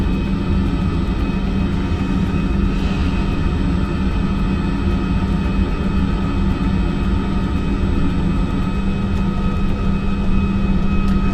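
A private jet at an airport fills the scene with a steady, loud, unbroken engine drone that holds an even level throughout, with no talking over it.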